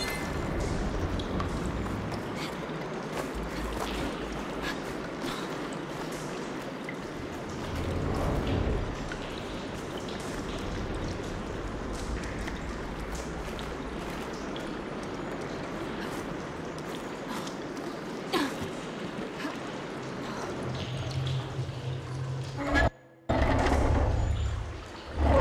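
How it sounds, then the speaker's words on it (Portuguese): Water flows continuously through a room in the game Horizon Forbidden West, a steady rushing wash with faint splashes, moderately loud and uninterrupted for most of the stretch, with a brief dropout near the end. "Eloy, tô ouvindo água na sala de novo"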